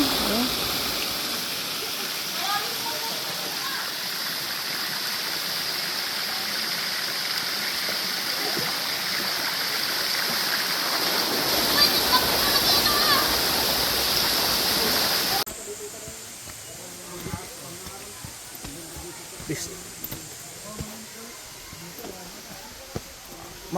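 Antong Falls, a waterfall visited on a summer nature hike, roars as a steady broadband wash of falling water, louder in the first half and then dropping to a softer, closer rush with scattered faint sounds.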